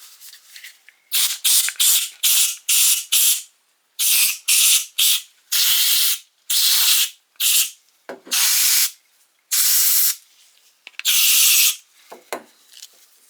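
Repeated short bursts of aerosol spray from a can used in place of a compressor in a basement shop while working on a Bonney TT707 3/8-inch ratchet wrench, about a dozen close, loud hissing blasts with brief pauses.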